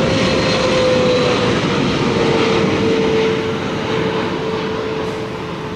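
An EVA Air airplane in Star Lion livery roars close by with a loud, steady engine rumble and a thin whining tone, the noise easing slightly as it moves away.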